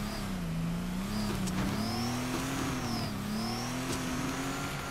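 A drift car in the video game Torque Drift, played on a controller, takes a chicane with a continuous engine drone that rises and falls with throttle, plus faint tire squeal, steady and fairly loud.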